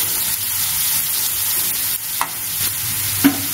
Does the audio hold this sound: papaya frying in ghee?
yes